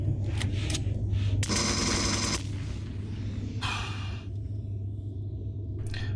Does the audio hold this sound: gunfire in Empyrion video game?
yes